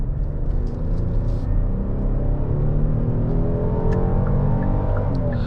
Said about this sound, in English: nice throaty sound from that naturally aspirated V6